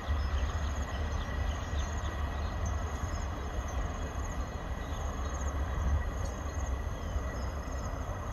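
Passenger train QSY 5237, running as a service between Samran and Bang Lamung, passes a level crossing as a steady, continuous rumble of rolling wagons, with faint insects chirping above it and no talk throughout.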